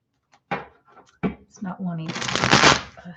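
Tarot cards shuffled close up after a few knocks and taps, ending in a sustained riffling flutter, with a voice speaking briefly before it.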